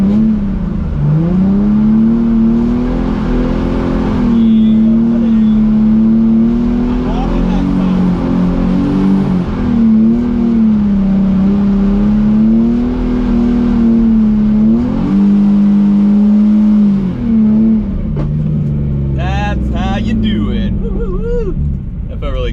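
A car drifting and spinning donuts holds a loud, sustained engine drone whose pitch wavers as it revs and eases, then drops and breaks up toward the end.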